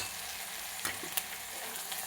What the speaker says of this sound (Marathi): कांदा चांगला भाजलेला आहे, तर यामध्ये आपण आलं लसूण आणि कोथिंबीर पेस्ट टाकतो